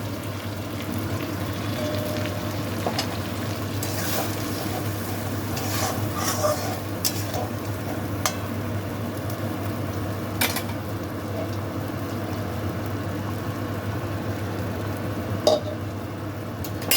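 Potol posto cooking in a pan on the stove as milk goes in and gets stirred: a steady low sizzle and bubbling runs throughout, with occasional spoon scrapes and clinks against the pan, near and moderately loud, no talking.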